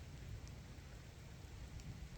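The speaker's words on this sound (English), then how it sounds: "But it's raining right now." Steady rain falls at night in Zion, a continuous dense patter with a low rumbling undertone, close and even throughout with no voices.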